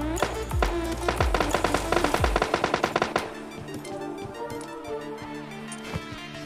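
Rapid automatic gunfire in a solo-versus-squad battle royale shooter game, a dense burst of sharp loud shots for about three seconds, then fading into softer scattered distant pops against a steady game background.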